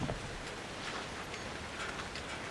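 In the horror video game Outlast 2, blood rain falls with a faint, steady patter. It blends into a soft, continuous hiss with no voices.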